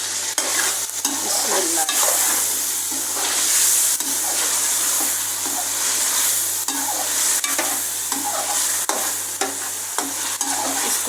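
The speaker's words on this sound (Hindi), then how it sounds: "मसाला भुन गया, चिकन को भुनेंगे।" Chicken sizzles loudly with masala in a pan and is stirred steadily, giving a dense, continuous frying hiss and periodic scraping sounds. A voice briefly speaks once.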